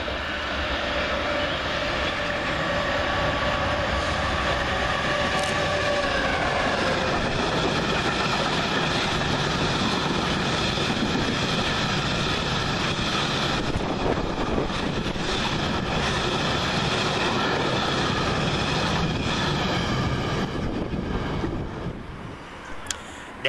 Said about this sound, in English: Train around the corner for DB Cargo is 660500, working a departmental train from Eastleigh East Yard to Preston Park.